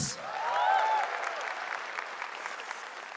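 An audience at the Suci 12 grand final, a stand-up comedy competition, breaks into sustained applause that swells quickly and holds at a moderate level, with a few whoops riding over the clapping early on.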